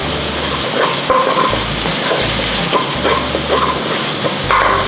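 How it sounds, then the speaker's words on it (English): Spices for vegan Penang laksa being stirred and fried in a pan, a steady crackling sizzle with repeated scraping strokes and soft clanks, close and loud with no speech. "Make sure to keep stirring it."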